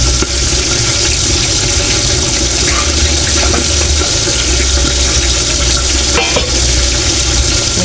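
Sliced sponge gourd (patola) sizzles loudly and steadily in a hot pan as it is stir-fried, a constant dense hiss with faint scraping from stirring underneath.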